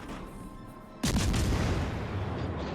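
Warship main guns firing in World of Warships: Legends, played on Xbox Series X: a single loud, close boom erupts and then rolls into a sustained rumbling roar that slowly fades.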